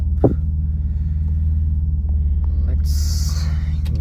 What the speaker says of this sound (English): Yeah, the car is warmed up.